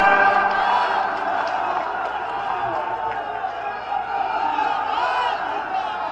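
Large outdoor rally crowd welcoming Priyanka Gandhi at a public meeting in Obra, Sonbhadra, with a dense, continuous roar of cheers and shouts that stays loud throughout.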